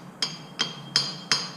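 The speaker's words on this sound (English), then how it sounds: "I'm going to grab it here and attempt to hammer it into a shape of sorts." Four evenly spaced, sharp metallic strikes as a hot copper-coated zinc disc is hammered on an anvil, close and ringing briefly after each blow.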